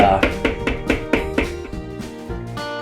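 A food processor purees macadamia nuts with chocolate into a smooth spread, its motor whirring in a series of close, repeated surges that trail off toward the end.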